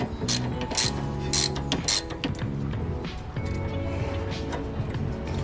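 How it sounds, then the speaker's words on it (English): Ratchet and wrench working on a sway bar end link of a Mazdaspeed 3, giving several quick clicking ratchet bursts early on, then softer metallic clinks and handling noises at close range. "in this case I'm going to use a ratchet and wrench"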